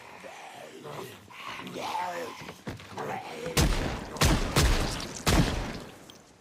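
Gunfire from Project Zomboid: three sharp broadband shots in the second half, each loud and separated by about a second, following a stretch of talking at the start.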